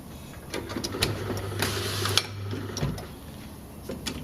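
A BenchMARK bottle labelling machine runs briefly, a low, steady motor hum lasting about two seconds, with soft clicks and mechanical ticks before and after in a quiet room.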